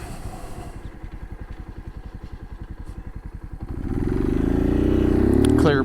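Motorcycle ridden and heard from inside the helmet: a steady low chugging idle with rapid regular pulses, then the engine revs up into a louder rising drone with wind rush as it pulls away.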